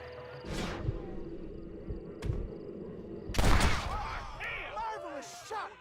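Gunshots in the Western video game Red Dead Redemption, several sharp loud reports spaced across the scene, one heavy burst near the middle, amid game voices and ambient effects.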